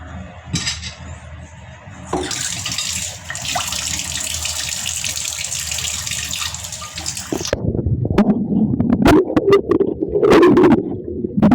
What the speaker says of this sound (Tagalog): ako na nga maghugas ng plato